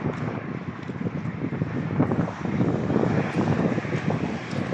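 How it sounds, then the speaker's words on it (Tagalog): Strong wind roars and buffets the microphone continuously, a loud, rumbling low rush with gusty swells and no speech. "Lakas ng hangin"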